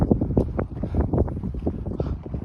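Cold wind buffets the microphone during a hike from Sundarijal toward Dhap Dam, a loud, gusty low rumble that thumps and swells irregularly with no voices.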